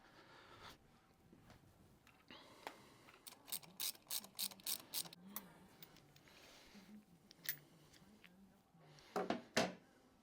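Ratchet clicking in quick bursts while fitting new spark plugs in a long-parked Toyota Celica GT4 engine, close and fairly quiet, with a few pauses and a final louder flurry of clicks.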